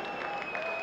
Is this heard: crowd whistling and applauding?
yes